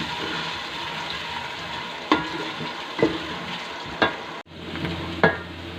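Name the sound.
onions frying and being stirred in a pan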